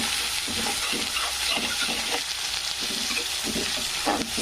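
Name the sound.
tomatoes frying in a pan with onion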